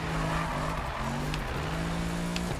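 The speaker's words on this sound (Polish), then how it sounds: "Mercedes w ogóle dużo lepiej brzmi." A Mercedes car engine in Need for Speed 2015, a steady humming drone that climbs and shifts pitch in steps as it revs. It sits close and stays fairly loud throughout.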